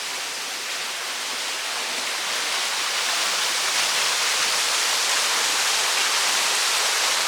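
Loud, steady rush of a stream flowing right beside a wild camp in Humberside, broadband water noise continuous throughout with no voices.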